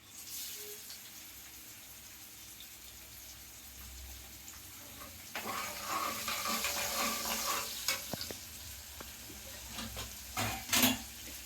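Cumin, chili powder and finely chopped green chillies temper in hot oil for upma. The sizzle starts quiet, then grows into a fuller crackle halfway through, broken by a few sharp clinks of stirring.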